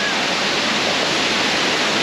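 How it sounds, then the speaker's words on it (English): Waterfall in the Brecon Beacons, a constant, dense rush of falling water filling the whole clip, close and loud with no pauses. "Waterfall number one today, guys, absolutely amazing."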